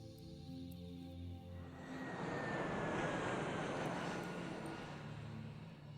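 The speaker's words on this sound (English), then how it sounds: "Oh, that's a plane." Airplane engine drone from the Worms video game, a steady broadband roar that swells over the middle seconds as the plane passes, with a faint rising whine, heard alone without talk.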